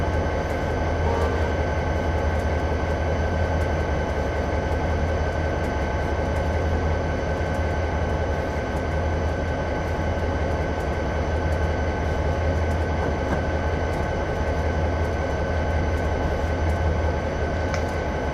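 An EMD SW1500 switching locomotive in a train simulator game gives a steady, droning diesel rumble with a constant mechanical hiss, running evenly for the whole stretch with no talking.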